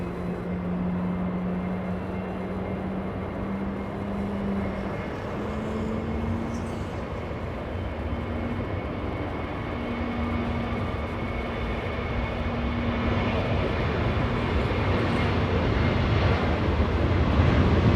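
Lufthansa Airbus A340-600 departing Los Angeles International runway 25 right, a distant four-engine jet rumble with a low droning tone that gradually swells louder toward the end, no voices.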